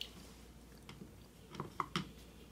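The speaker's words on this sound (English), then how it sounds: "No, just chew it up." Close, soft wet chewing and squishing of Mexican goat stew, birria de chivo, with a few distinct bites near the end over quiet room noise.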